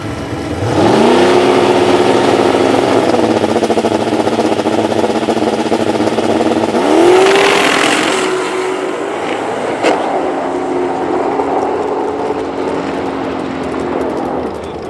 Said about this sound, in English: first pass actually going down the track